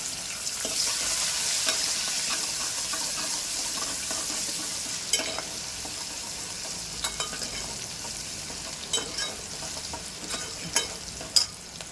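Onion frying with green chili and garlic in oil for kadhi, a continuous close sizzle with occasional scraping and clinking stir strokes, growing more frequent toward the end, no talk.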